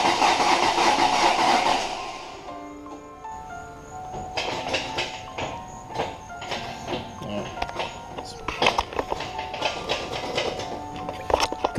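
A 2001 Ford Mustang GT with a freshly replaced engine fires up loudly, then settles into a rough, steady idle with rhythmic pulsing, close by in a garage.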